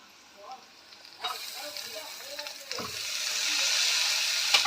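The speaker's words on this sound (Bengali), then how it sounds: "আমি আবার একটু পেঁয়াজটা তেলের মধ্যে দিয়েছি" Onion frying in hot cooking oil, with a steady sizzle that rises and spreads across the clip and is broken by a few soft stirring clicks.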